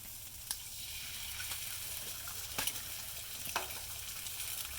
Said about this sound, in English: As that's cooking, I'm going to go ahead and put down 2 more eggs.